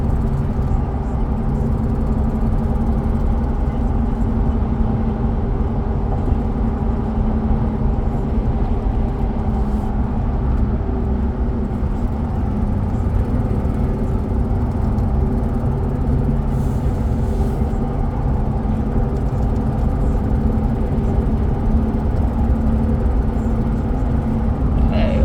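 Steady low engine rumble and road noise from inside a moving 2003 Chevy Silverado 2500 pickup truck, constant and unbroken throughout with no talking.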